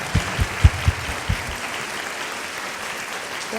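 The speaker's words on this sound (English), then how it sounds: "Can we just give her one more round of applause," Lecture audience applauding at the close of a hospital distinguished lecture on the opioid epidemic, a soft steady wash of clapping with a few dull thumps early on, fairly distant and even throughout.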